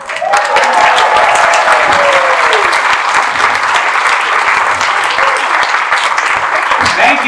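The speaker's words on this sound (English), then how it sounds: "Round of applause" Audience at a special needs talent showcase applauds after a performance, with loud, dense clapping sustained for several seconds and a few cheers and voices mixed in.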